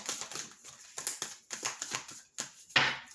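A quick run of papery taps and riffling snaps as a deck of tarot cards is shuffled, ending in a louder burst of flicking cards.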